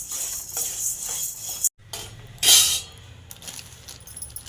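Lentils and grains dry-roasting in a pan for sambar powder, with bengal gram, cinnamon and dried chillies, give steady stirring scrapes and light clinks of a spoon, with one brief louder scraping burst near the middle.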